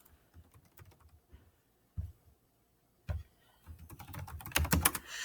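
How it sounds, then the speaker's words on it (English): Typing on a computer keyboard nearby, with sparse, light key taps at first that turn into a quicker, louder burst of clicks toward the end. "I'm going to be signing and typing and signing and typing."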